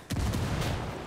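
A frag grenade goes off in the shooter game Ghost Recon Wildlands, a single loud, close, booming blast that rumbles for about a second.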